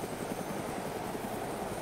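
Helicopter in the DayZ video game with a damaged tire, giving a continuous close whirring rotor and engine drone, steady and fairly loud with no other sound over it.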